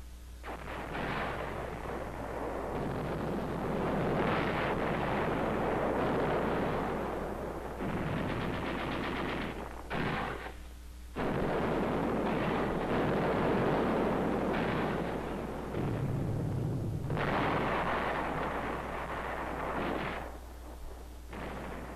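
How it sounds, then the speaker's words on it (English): Dense WWII battle fire on Tinian: rifle, machine gun, mortar and artillery fire rumble and crackle almost continuously over a low steady hum, with brief gaps between heavy bursts. "They resisted strongly with rifle, machine gun, mortar, and some artillery fire."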